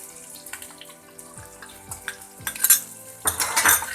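A spoon scrapes and clinks against a pan while masala and oil are mixed into green chillies for a quick chilli fry, with light metallic taps and scraping that grow busier and louder toward the end.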